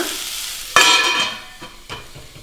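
Mushroom salad mixture stirred in a hot pan: a sudden loud burst of sizzling as a spoon scrapes through it, then softer frying hiss with one more quick scrape, no talking.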